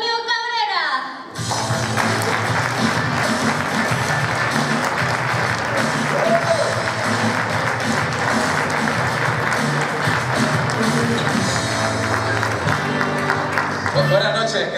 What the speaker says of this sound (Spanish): vaya mierda de aplausos que me han dado